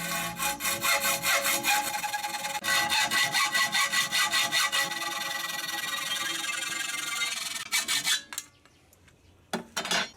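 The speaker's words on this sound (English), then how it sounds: "just an ordinary everyday bloody hacksaw blade duvelacki thing" Hacksaw blade cutting a metal helmet holder piece, with fast rhythmic rasping strokes that run steadily for about eight seconds, then a few short, broken strokes near the end.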